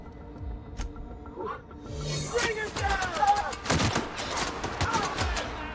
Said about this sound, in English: Well, they're shooting.